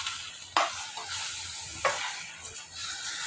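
Chicken dum biryani sizzles in a pot over a medium-high flame, a steady frying hiss broken by two sharp scraping stirs, close and alone without talk.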